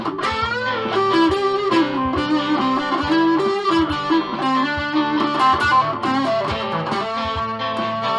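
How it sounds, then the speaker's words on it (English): Yamaha ERG121C small amp with its reverb turned up and distortion on, an electric guitar riff of overdriven picked notes and chords with a washy, lingering tail, playing steadily at moderate loudness for several seconds with no talking. "let me turn the reverb"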